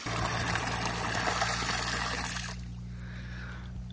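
Water rushes steadily out of an opened outlet seal as a fish pond is drained on a carp fish farm, a continuous broad gush that drops to a softer trickle partway through.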